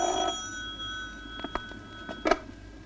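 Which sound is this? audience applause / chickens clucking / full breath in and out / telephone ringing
telephone ringing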